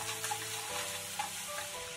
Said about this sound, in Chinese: 锅中放油，油温烧热之后，把蒜末放入锅中，煸炒出香味